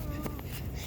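A faint, high kitten meow comes once, quick and thin, over a low background hum, from a kitten stuck inside a bamboo tube.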